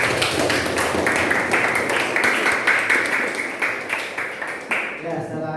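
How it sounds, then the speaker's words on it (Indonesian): A classroom of students claps together in steady, dense applause lasting several seconds, fairly close and loud, then cutting off abruptly at the end. "kasih tepuk tangan"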